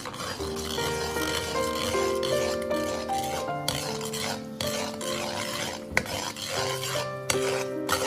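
Rock sugar stir-fried in a wok over low heat: a continuous scraping and clinking of a utensil against the metal, with bubbling underneath and a few sharper knocks, with no talking.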